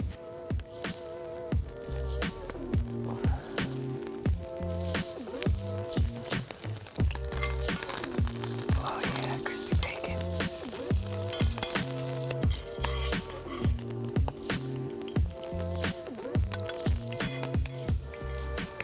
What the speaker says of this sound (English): All right, let's go in with our bacon.